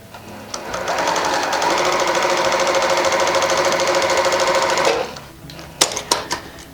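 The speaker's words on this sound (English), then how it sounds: "Now I'm going to sew this all the way down." A sewing machine stitches pieced quilt fabric in one steady, loud run of about four seconds, then stops, leaving a few sharp clicks and knocks.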